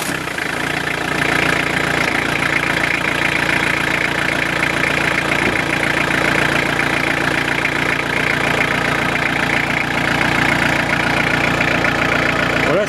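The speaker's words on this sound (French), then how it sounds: "Voilà, c'est un diesel, on va plus s'entendre." A diesel car engine idles steadily and loudly at close range for the whole stretch, with a constant rumbling, knocking tone and no speech.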